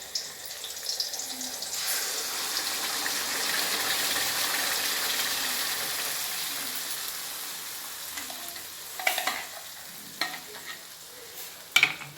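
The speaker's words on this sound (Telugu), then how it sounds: "ఇది పైకి కిందికి ఇట్లా కలపాలండి మంచిగా నూనెలో ఎగుతుంది" Paneer masala curry is stirred as it fries in oil, giving a steady close sizzle, with a few sharp scraping clicks from the spoon against the pan toward the end.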